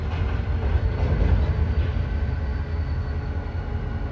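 Trains move through the Union Pacific rail yard in Roseville, California, a steady low rumble of rail cars rolling, loud and continuous with a dense bass drone.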